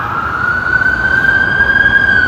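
A loud, close ambulance siren holds a steady high wail, slowly rising in pitch over a low rumbling engine, with no voices.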